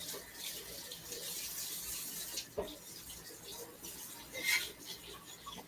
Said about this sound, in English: We're going to wash our knife. We're washing our cutting board.